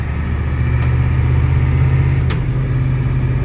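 A Ford 7.3 IDI diesel engine runs steadily near at hand, a deep, even droning hum with two faint ticks over the low rumble and little change in pitch.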